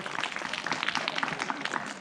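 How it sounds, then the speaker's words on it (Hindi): Students at a school annual report function clap together in a steady, dense burst of applause that stays fairly even throughout. "तालियां बजाओ बेटा बच्चों।"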